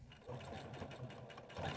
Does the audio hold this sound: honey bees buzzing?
no